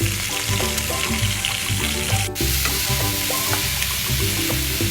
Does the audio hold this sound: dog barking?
no